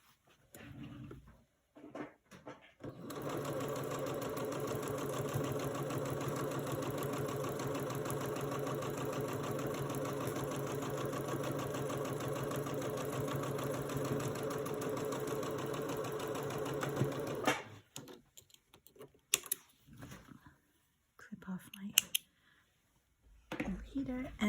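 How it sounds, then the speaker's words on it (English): Home sewing machine running steadily for about fifteen seconds while piecing quilt blocks, a continuous mechanical hum with brief quiet handling sounds before and after. "And then I'm going to sew that."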